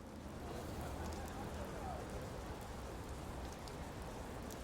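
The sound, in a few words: rain falling in The Flower Collectors video game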